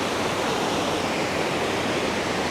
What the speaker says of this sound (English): Look at these rapids, man. Incredible.